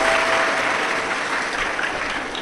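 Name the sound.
loud applause for the host families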